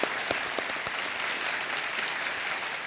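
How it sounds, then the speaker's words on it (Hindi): Steady applause from a TV quiz show studio audience, a dense patter of clapping that holds at an even level throughout with no voices on top. "एक बार तालियों के साथ इनका हम अभिनंदन करते हैं।"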